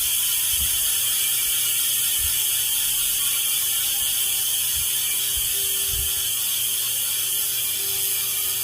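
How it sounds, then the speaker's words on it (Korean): A Madison Delta 10 SE bicycle's rear hub freewheel ratchet clicks in a fast, steady buzz while the wheel spins, with a few faint knocks, near and alone. "라치 소리 한번 들어보세요."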